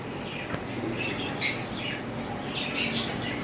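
Sun conure parrots squawk in short, shrill bursts, two louder calls standing out over a steady background of softer chatter.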